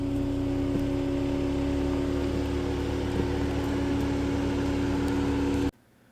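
A 2024 Toyota Land Cruiser creeping down an off-road obstacle, its engine a steady low drone with a constant tonal hum, close and loud throughout, cutting off abruptly near the end.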